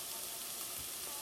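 Vegetables fry in a pan in a home kitchen with a soft, constant crackling sizzle, faint and unbroken over a brief moment, with no voices.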